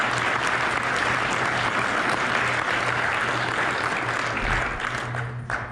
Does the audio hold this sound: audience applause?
yes